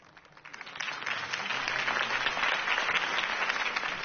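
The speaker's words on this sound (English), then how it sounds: "If only Mr. Wayne, my campaign's largest backer, could have heard that applause" Applause swells up from quiet to a full, sustained round of clapping from an audience, holding steady to the end.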